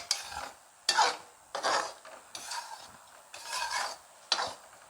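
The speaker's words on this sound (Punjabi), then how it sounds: "ਬਸ ਥੋੜਾ ਜਿਹਾ ਹੋਰ ਭੁੰਨ ਕੇ ਇਹਦੇ ਵਿੱਚ ਘੀ ਪਾ ਦਾਂਗੇ ਇਸ ਸਟੇਜ ਤੇ" Dry wheat flour is stirred and roasted in a pan for panjeeri, with about six rhythmic scraping strokes rasping across the pan, close and fairly quiet, with no voices.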